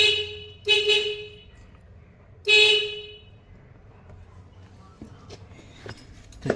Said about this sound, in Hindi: देखिए हॉर्न बज रहा है, यानी कि ये सर्किट भी मेरा कंप्लीट हो गया।